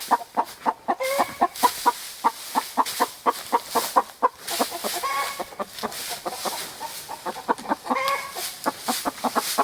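Chickens in a coop cluck and squawk in agitation as straw is spread around them, a dense, continuous chorus of close, overlapping calls with no talking.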